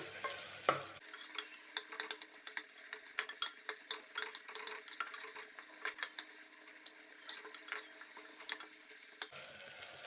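Onions frying in a pan for Bangalore-style chicken donne biryani, with a constant crackling sizzle and rapid ticking spatula scrapes throughout, close up and with no voices.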